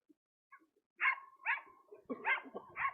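A dog lets out a series of short barks and yips, sparse at first and then quicker, that sound moderately close and clear over a quiet background with no talking.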